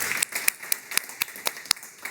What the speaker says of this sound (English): applause to Ken